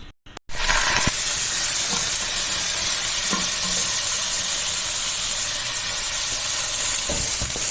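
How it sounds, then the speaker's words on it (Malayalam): One kilo of rice frying in ghee mixed with sunflower oil for chicken biryani, a loud, steady close hiss and sizzle that begins abruptly and continues throughout, with occasional stirring scrapes. "ഇത് ഒരു കിലോ അരിയുണ്ട് ഇത് വറുത്തിട്ടാണ് വെക്കുന്നത്"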